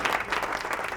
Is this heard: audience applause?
yes